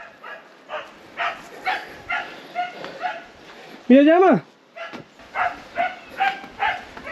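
A dog barks and whimpers nearby in a rural Nepali home, with one loud rising yelp standing out among softer yips, all under frequent conversational speech.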